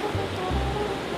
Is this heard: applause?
no